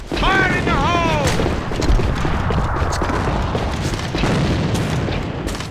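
A grenade goes off in the team shooter AVA during a match: a dense, rumbling boom that swells under heavy gunfire and stays loud throughout, with a voice calling out briefly at the start.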